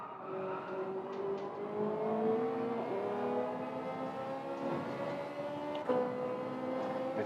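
Group 1 race cars in Gran Turismo 7 drone past with high, sustained engine whines, pitches sliding and shifting as several cars pass steadily at moderate volume with no talking.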